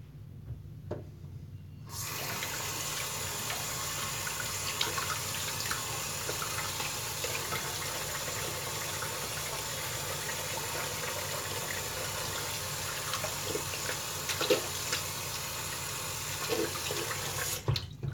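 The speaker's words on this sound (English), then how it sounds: "I'm going to rinse and come back for pass 2." A shaving razor rinsed under a running tap: water gushes steadily from the faucet into a sink for most of the clip, close and constant, starting and stopping abruptly.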